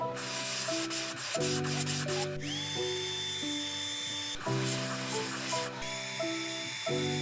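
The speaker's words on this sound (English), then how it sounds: "go ahead and spray the whole back of it in that color too" Paint sprays through an airbrush onto the back of a fishing lure as a steady close hiss, running under tonal background music.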